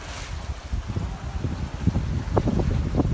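A sailboat under sail in waves and wind, mostly buffeting wind noise with low gusty rumbles and splashing water bursts growing toward the end.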